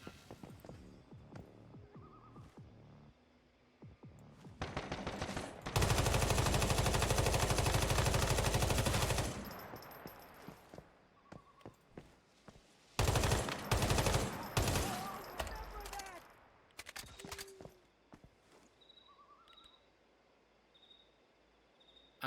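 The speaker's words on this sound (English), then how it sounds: "I like the new gun." Sustained bursts of gunfire from a newly acquired gun in the video game Once Human, a loud dense stretch of rapid shots followed by shorter scattered bursts and quieter game ambience.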